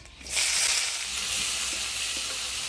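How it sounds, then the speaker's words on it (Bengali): Chopped onion hits hot oil with whole garam masala, bay leaf and dried chilli for a village-style boal fish jhal, bursting into a loud, steady close sizzle after a brief quiet start. "ফোড়নে দেব গোটা গরম মশলা তেজপাতা শুকনো লঙ্কা দিয়ে দেবো কুচানো পেঁয়াজ"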